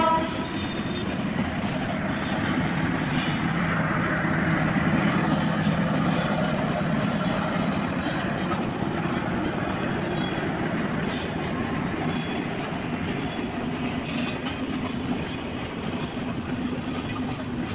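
A crowded passenger train at Eid runs on, its loud steady rumble mixed with wheel squeal and a distant horn, while the murmur of passengers sits faintly underneath.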